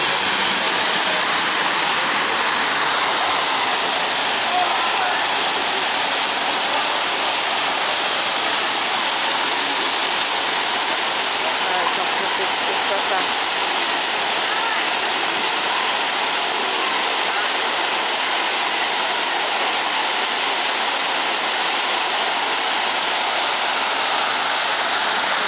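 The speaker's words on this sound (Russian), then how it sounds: "Вуаля, смотрите, я подошла таки к этому фонтану." Water splashes continuously in a city fountain, a dense, loud, unbroken hiss of falling water heard close up for the whole stretch with no pauses.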